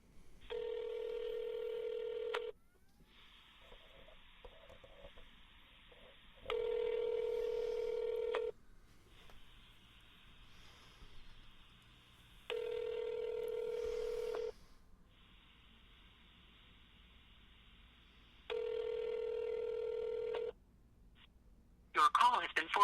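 Outgoing telephone call with a repeating ringback tone, four long evenly spaced rings separated by quiet gaps, followed by a brief burst of sound at the end.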